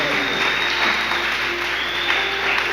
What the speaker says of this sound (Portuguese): Aplaudir o Senhor Jesus pela vida deles